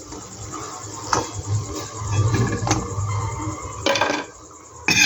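Crispy fried eggplant-shaped evening snacks being moved and tossed in a pan make a steady crunchy rustle with several sharp clinks and scrapes of metal, close and loud, with no talking.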